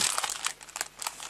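Plastic packaging crinkles and crackles in quick, close bursts as a tablet case for an iPad mini is opened.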